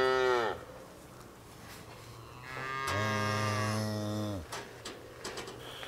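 Cows low in a field at night, one long moo early on and a louder, drawn-out moo in the middle, followed by a few faint rustles in an otherwise quiet outdoor setting.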